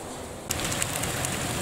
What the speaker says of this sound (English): Yeah, that's properly raining.